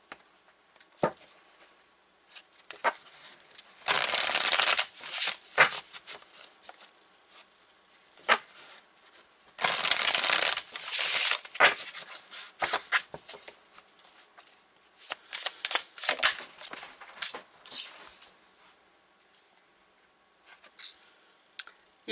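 Tarot cards shuffled by hand nearby, two sustained riffling bursts among scattered crisp card flicks and taps, fairly quiet with no talk.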